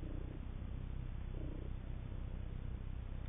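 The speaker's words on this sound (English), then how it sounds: "My cat wants attention." A pet cat purrs steadily and softly up close, a low continuous rumble with a quiet indoor background and no talking.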